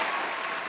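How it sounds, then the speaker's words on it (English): A podcast studio audience gives a round of applause, a short dense burst of clapping heard close. "Round of applause."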